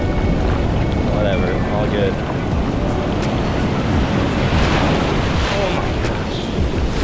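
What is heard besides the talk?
ocean waves and wind on the beach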